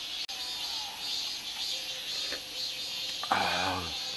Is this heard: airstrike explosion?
no